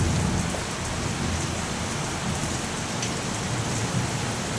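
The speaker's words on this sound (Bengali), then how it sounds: "দেখো কি পরিমাণ বৃষ্টি হচ্ছে" Heavy rain pours down steadily in a broad, constant hiss during a dark stormy spell, close and loud, with no voices.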